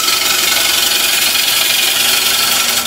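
A wood lathe turns timber while a gouge lightly skims the surface, giving a steady, loud, close hissing rub with a constant motor hum and no pauses.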